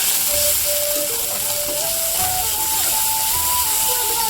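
Spices fry in a kadai pan with a steady loud sizzle, while a thin whining tone slowly climbs in pitch through the background.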